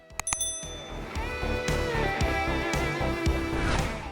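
Bright bicycle-bell style chime marking a subscribe bell button, struck in a quick ringing cluster at the start and followed by a busy musical jingle.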